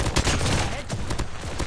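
Renetti burst SMG fire in Call of Duty Mobile, loud close repeated bursts of rapid shots packed densely together with other gunfire and game effects, a dense, continuous clatter.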